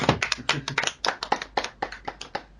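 A small group claps for a livestream performance, a loose round of applause with uneven, overlapping claps that rise and fade across a few seconds, close and moderately loud.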